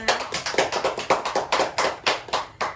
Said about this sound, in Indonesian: Tepuk tangan untuk Kak Mina.